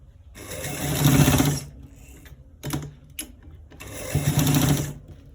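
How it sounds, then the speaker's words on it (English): A sewing machine stitching a stretchy fabric collar roll, heard as short close bursts of rapid whirring stitches separated by quieter pauses with a few small clicks, and no one speaking. "We are gonna stitch it all through to the end part."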